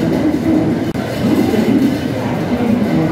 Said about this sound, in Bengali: রাত 11টা নাগাদ চলে এলো আমাদের মুম্বাই মেল